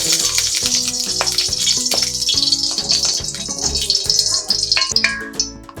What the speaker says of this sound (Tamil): ஒரு கடாய் வச்சு நம்ம எண்ணெய் ஊற்றிக்கலாம்.